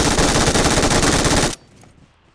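In the video game BGMI on the Sanhok map, a dense, loud burst of rapid automatic gunfire ends abruptly, and faint game sounds follow.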